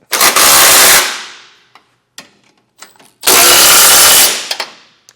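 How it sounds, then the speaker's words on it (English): Nuts and bolts are driven tight on a hidden receiver hitch being installed on a 2025 Volvo XC90, with two loud, close, buzzing power-tool bursts of about a second each and light clanks between them. "Now we'll tighten our hardware down."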